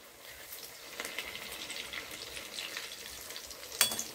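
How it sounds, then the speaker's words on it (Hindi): Bread pizza pockets fry in hot oil with a soft, continuous crackling bubble, a few brighter pops near the end; quiet and steady, with no talking. "अब हम इसमें तेल में इसको धीरे धीरे एक एक करके डालेंगे। और इसे गोल्डन ब्राउन होने तक फ्राई कर लेंगे"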